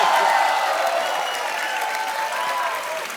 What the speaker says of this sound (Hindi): इसका सिर्फ तालियां.